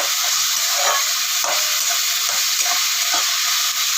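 Finely chopped tomato frying with browned onion for chicken sukha makes a loud, continuous, close sizzle, with faint periodic scrapes of stirring running underneath.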